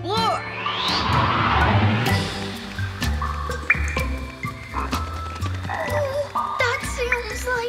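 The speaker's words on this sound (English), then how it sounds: "That sounds like a hungry cave frog." Loud, gurgling cartoon cave-frog croaks with wobbling tones, mixed with drips and splashy effects, fairly close and filling the scene.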